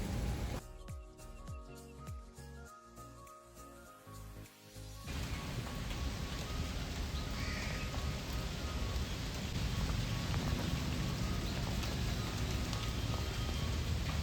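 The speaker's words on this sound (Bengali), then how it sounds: "কি যে বৃষ্টি শুরু হয়েছে, বৃষ্টি থামার তো নামই নেই" Heavy rain pours down in a steady, dense hiss that takes over after a few seconds of quieter, tonal background sound, then continues unbroken and loud.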